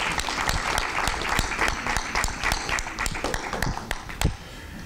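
Audience applause at a Cleveland Disability Awareness Day luncheon, with close, sharp individual claps standing out over the crowd's steady clapping, tapering toward the end.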